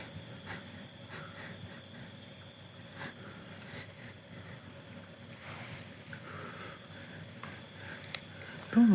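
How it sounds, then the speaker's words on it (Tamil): Night insects, probably crickets, chirp steadily at close to middle distance as a thin constant trill under a faint background hiss. No voices are heard. "பூச்சி அங்கே."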